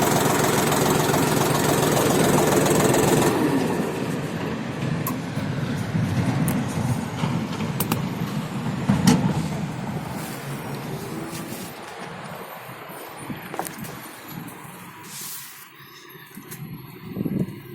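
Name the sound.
mini tractor engine running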